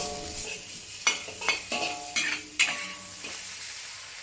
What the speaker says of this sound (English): add the hydrated wood ear mushrooms and stir fry for another 1 minute